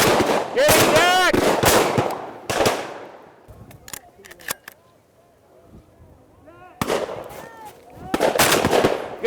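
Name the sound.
shotgun shot while bird hunting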